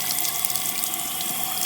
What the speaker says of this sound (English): we are going to rinse this with